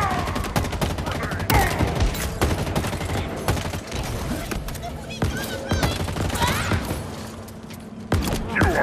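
Rapid automatic gunfire and explosive bursts from a Halo Infinite firefight, loud and dense throughout with sharp repeated shots and mechanical clatter, voices shouting beneath the combat.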